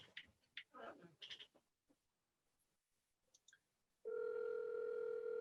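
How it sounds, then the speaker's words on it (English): A person talks briefly, then after a pause a loud, steady electronic telephone tone sounds without interruption. "Oh, it's ringing."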